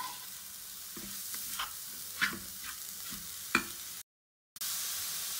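Coconut and sugar cooking over a slow flame for a fresh coconut ladoo, stirred with a few scraping strokes over a soft steady sizzle, close by; a brief dropout near the end, no talk.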